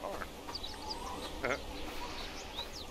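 A duck quacks in the medieval survival game Bellwright, giving several short nasal calls over game ambience, while someone talks over them.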